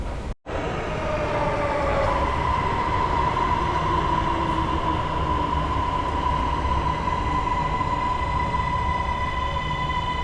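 A Bangkok metro train pulls into an underground platform behind glass screen doors, a loud steady rumble with a sustained high whine and faint squeal running throughout, after a brief cut at the start.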